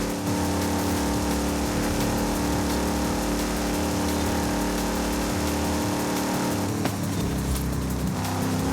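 A Subaru BRZ engine in the racing game Forza Horizon 5 drones loudly and steadily, with pitch shifting as it revs and changes gear, continuous and close.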